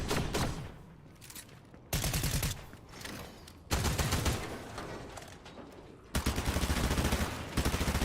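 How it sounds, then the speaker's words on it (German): Bursts of automatic gunfire from a weapon being tried out in the video game Fortnite, several loud rapid-fire strings separated by short pauses, with no talk over them. "ich will jetzt die Waffe ausprobieren."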